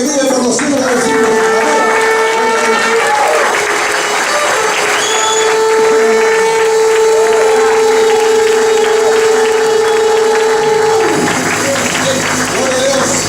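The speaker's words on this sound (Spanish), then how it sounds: "denle un fuerte aplauso al que vive por los siglos de los siglos" A church congregation claps and cheers loudly in a dense, continuous wash of applause during a worship service, with sustained tones from instruments or a held voice ringing over the crowd noise before fading near the end.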